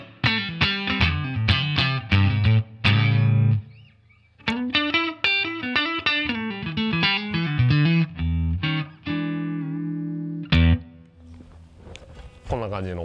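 Electric guitar through a reissue Fender Deluxe Reverb on its vintage channel with a stock Castor pickup and Strymon Flint reverb, playing loud strummed chords and picked notes with reverb tails ringing into brief pauses, no talk.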